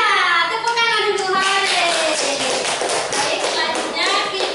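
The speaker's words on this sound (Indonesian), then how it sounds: "Iya, tepuk tangan dulu." First-grade elementary classroom of children clapping their hands together in a lesson about telling time, a dense loud burst of many overlapping claps with a voice chanting along over it.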